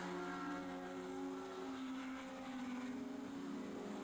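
Race cars roar past on a wet track at Oulton Park in heavy rain, their engine notes rising and sliding in pitch as they go by, with a steady wash of noise behind them.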